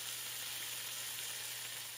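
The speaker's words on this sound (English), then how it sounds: "basting them in soy sauce and frying it in a pan" A steady, quiet sizzle of soy-sauce-basted rice balls (yaki onigiri) frying in a hot pan, continuous and hissy with no breaks.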